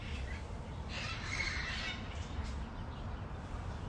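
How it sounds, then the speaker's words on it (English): Parrots squawk in Pasadena, a brief harsh burst of calls at a distance, faint over a dull outdoor background rumble. "It's Pasadena Parrots."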